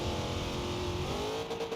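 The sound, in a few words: car engine revving in Forza Horizon 2 video game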